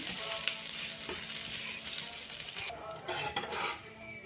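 Dosa batter frying in oil on a hot pan, a steady close sizzle with a few light metallic scrapes and clinks of a spatula, no talk.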